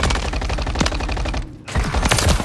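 Rapid automatic gunfire from a video game, loud and continuous bursts with a brief pause midway before the firing resumes, close and dominant throughout.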